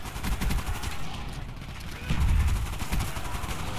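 Rapid gunfire rattles in a shooter video game, with bursts of automatic shots in dense, fast rhythm and heavier low thuds, loud and close, continuing for several seconds.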